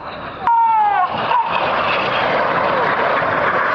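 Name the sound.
four RAF aircraft flying low in formation pass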